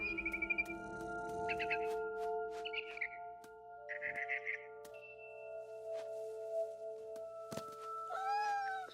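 A cat in What Remains of Edith Finch, with short chirping and mewing calls repeated over a sustained tonal music bed and a rising meow-like cry near the end.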